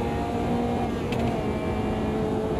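A classic race car engine in Automobilista 2 on the Bannochbrae circuit hums in a steady, low, rumbling drone, loud and constant through the short stretch with no speech.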